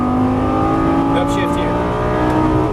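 Lamborghini Gallardo LP550 engine pulling hard on a race track, a loud, steady sustained roar with rising harmonics, under a driving instructor's coaching voice.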